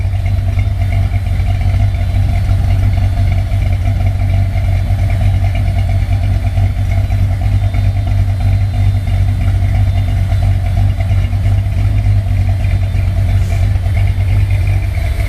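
A 1968 Corvette engine idles steadily and loudly with a deep, even rumble and a faint lopey cam pulse, running unchanged throughout with no voices.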